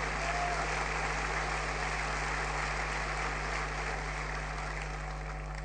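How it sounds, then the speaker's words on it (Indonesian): A church congregation claps for God during a sermon, steady broadband applause at a moderate distance, continuous for several seconds under a low constant hum. "Berikan tepuk tangan buat Tuhan."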